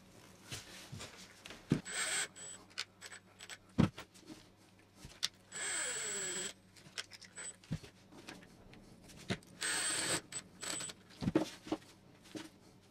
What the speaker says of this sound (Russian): Колеса прикрутим винтами